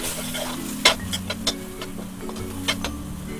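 Spices, garam masala powder and a chicken cube fry in a pot for biryani, giving a low sizzle with scattered sharp ticks and clinks of stirring.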